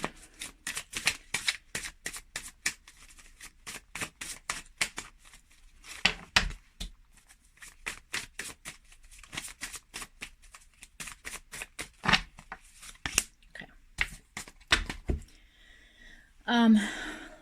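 Tarot cards being shuffled during a Gemini reading, a long run of quick crisp riffling flicks in dense bursts with brief pauses, fairly close and clear, ending in a louder shuffle or knock.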